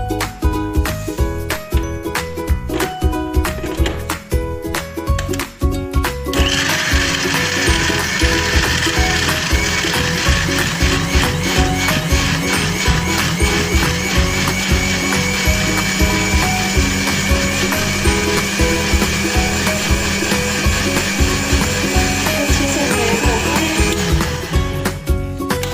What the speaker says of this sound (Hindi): अब इन सबको मैं ब्लेंड कर दूंगी